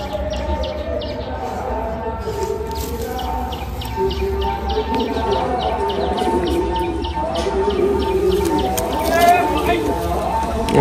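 Andha Madrasi pigeons coo close by, soft repeated throaty calls layered with faint chirps, while a person talks throughout.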